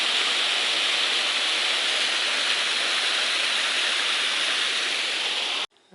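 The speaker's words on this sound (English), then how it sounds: "Have a little waterfall over here." A small waterfall on a creek flowing to Camp Pond, heard as a continuous broadband rush of falling water, steady and fairly close, cutting off abruptly near the end.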